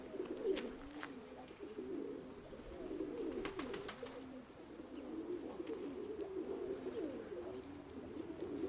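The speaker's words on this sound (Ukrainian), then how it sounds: "Сизий голуб." Rock pigeons coo continuously nearby, soft throaty rolling calls overlapping in a steady rhythm, with a few faint taps and rustles in between.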